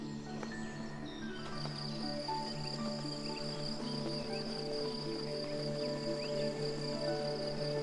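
Crickets chirp steadily in a dense outdoor chorus, with high buzzing trills layered over a faint background hum, unbroken throughout.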